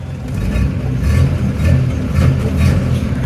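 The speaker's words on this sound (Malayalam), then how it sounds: "നമുക്ക് ജസ്റ്റ് ഒന്ന് എൻജിൻ റവ് ചെയ്ത് നോക്കാം." A petrol engine in a Mahindra Jeep CJ3B, India's first jeep, revs close by, with a deep rumble that swells and eases in a couple of smooth throttle rises.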